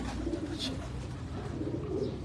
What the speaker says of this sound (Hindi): बहुत अच्छे कबूतर।